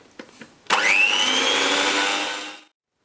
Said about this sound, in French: on fouette ça jusqu'à épaississement